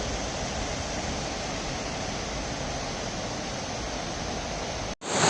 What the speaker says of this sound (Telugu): water falls hi friends,